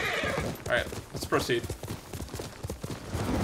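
Horse hooves clip-clopping with a whinny in the Ghost of Tsushima video game, rhythmic hoofbeats close by under someone speaking briefly.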